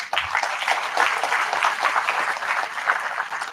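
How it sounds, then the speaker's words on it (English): An audience at an engineering career guest session applauds warmly, a dense wash of many hands clapping steadily without pause. "Big round of applause for sir."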